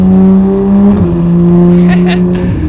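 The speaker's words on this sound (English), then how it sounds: "you can hear that exhaust" Exhaust drone of a 991-generation Porsche 911 GT3 from inside the cabin, a steady loud tonal hum that shifts pitch slightly as revs change.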